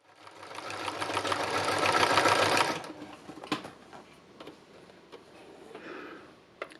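Sewing machine running steadily for close to three seconds, loud and continuous as it stitches, then stopping to leave faint clicks and handling noises.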